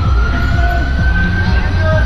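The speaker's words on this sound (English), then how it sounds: "We got an ambulance!" An ambulance siren sounds loudly and close during a nighttime Halloween Critical Mass bike ride in San Francisco, a continuous wailing tone over traffic rumble, with voices around it.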